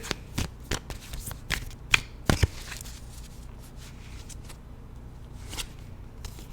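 Tarot cards are shuffled and drawn by hand, giving a series of quick, crisp riffles and flicks up close, irregular and separated by brief pauses, with no talking.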